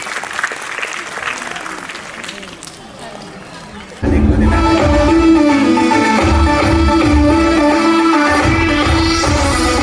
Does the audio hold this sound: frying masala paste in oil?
no